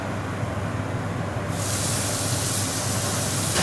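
Mushrooms and tofu steam in a pan with a little water, a continuous loud hiss that sharpens and brightens midway, heard alone without talk.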